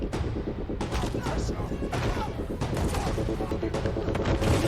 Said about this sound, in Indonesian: Bahkan tanpa ragu, ia menembak Gideon, kakak iparnya sendiri